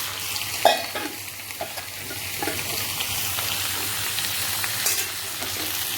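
Pumpkin and tomato frying in a pan with spices while being stirred, a steady close sizzle broken by occasional scraping clatters of the spatula against the pan.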